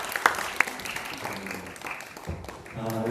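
Applause from the audience at a Korean-language speaking contest final: scattered hand claps ring out over a murmuring crowd for a few seconds, with voices audible in the background.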